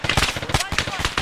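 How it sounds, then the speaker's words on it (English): Rapid gunfire from a firefight in ArmA 3, a dense run of sharp, closely spaced shots over about a second, loud and near, mixed with voices. "Incoming shots from somewhere to the right."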